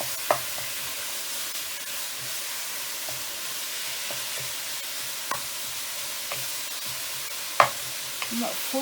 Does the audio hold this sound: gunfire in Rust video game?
no